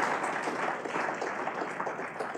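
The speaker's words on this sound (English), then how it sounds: "let's give a round of applause for our president" Steady, dense applause from an audience, continuous clapping filling the whole moment without pause, moderately loud with no voices on top.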